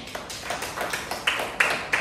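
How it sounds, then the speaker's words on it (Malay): Students in a classroom clap for classmates who came to the front, a light, scattered patter of hands, fairly faint and uneven, with a few sharper individual claps. "Sila berikan tepukan."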